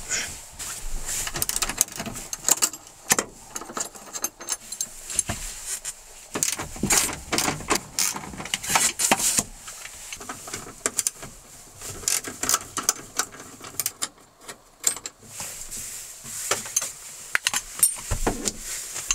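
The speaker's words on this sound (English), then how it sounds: "next I'm going to go ahead and take these brackets off and the lower metal male end of the seat belt" Seat brackets and lower seat belt ends are unbolted inside a Celica drift build's stripped interior, producing close, irregular ratchet clicks, metallic taps and rattling tool clatter in quick bursts.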